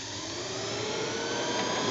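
A WarP9 electric motor driven by a Soliton1 controller spins up toward its maximum set RPM, a steady loud whining roar with a broad rushing hiss that holds evenly and rises slightly, with no voices.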